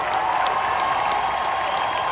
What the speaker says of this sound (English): we should give him a round of applause for his generous heart